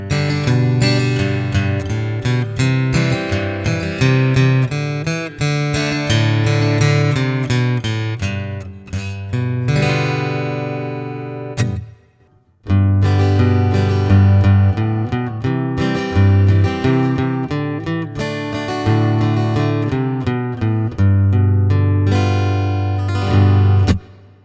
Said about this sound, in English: This is my Builder's Edition 517E from Taylor.